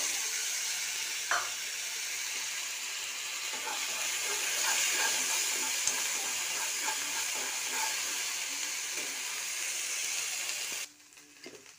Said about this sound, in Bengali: মশলাটা ভালো করে আমি কষিয়ে নেব।